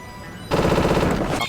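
Rockets fire in the video game bk3 as a sudden loud, rapid rattling burst of repeated shots that lasts about a second after a quieter lead-in, then cuts off abruptly.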